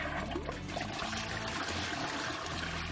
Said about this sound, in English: Now that flush was quiet.